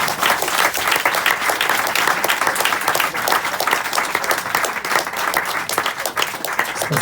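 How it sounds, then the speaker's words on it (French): A large audience claps continuously, a dense, steady wash of applause that keeps going at full strength throughout. "Et je vous demande d'applaudir très très très fort Miss Yulia Perminova en piano."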